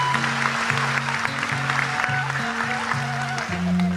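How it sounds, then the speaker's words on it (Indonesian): Applause from an audience at an Indonesian religious gathering, moderate and somewhat distant, sounds under a steady sustained musical tone. "Tepuk tangan untuk beliau, nggak apa-apa."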